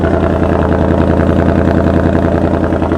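A Ford Mustang engine with a new loud exhaust, running on mufflers only with the resonator still in, rumbles close and steady in a deep, pulsing idle, without talking.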